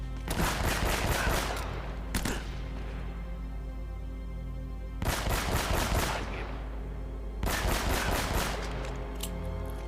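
Gunfire in the video game Uncharted: Drake's Fortune rattles out in three long, loud automatic volleys separated by quieter pauses, dense and continuous while each burst lasts, with no voices.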